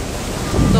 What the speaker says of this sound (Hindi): और लहरें इस वक्त बहुत ज़्यादा ऊँची हैं